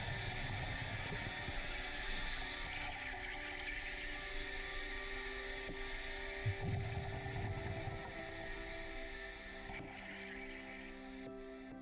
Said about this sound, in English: the all too familiar sound of boat traffic can be heard above